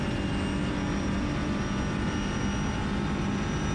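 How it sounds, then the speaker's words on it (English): A TCR touring race car screams at full throttle along the long Mistral straight at Circuit Paul Ricard near 250 km/h, a loud steady engine roar with wind rush heard from onboard, unbroken throughout. "full throttle through this left-hander on the long straight, where we hit 250 km per hour"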